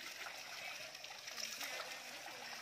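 Holy Ganga water flows at a temple, a steady, faint trickling and splashing stream heard close and continuous without pause.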